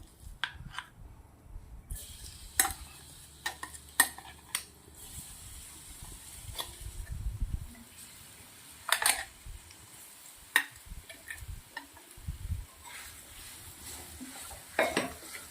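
Dry fruit laddu mixture is sautéed in a pan on a low flame, heard as faint, close scraping and clinking of a spoon against the metal pan, with scattered taps.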